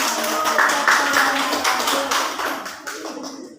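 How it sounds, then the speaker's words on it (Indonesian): Classroom applause at an Islamic boarding school: a dense wash of many hands clapping together, fairly loud and steady at first, then gradually thinning and fading toward the end. "Oke, tepuk tangan dulu."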